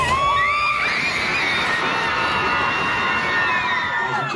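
A crowd of high voices shouting and cheering together at a winter music festival concert, loud and sustained throughout, with no clear clapping standing out.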